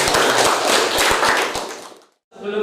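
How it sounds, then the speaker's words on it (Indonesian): A school class claps their hands together in a loud, close run of quick rhythmic claps, then falls abruptly silent before a short tonal sound begins. "Tepuk tangan."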